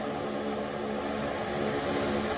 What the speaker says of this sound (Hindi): यहां पर एयर शो में लड़ाकू विमान टच एंड गो परफॉर्म करेंगे